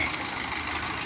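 A Mahindra Arjun tractor engine runs nearby during soil trolley loading work, a steady, loud mechanical drone with no pauses.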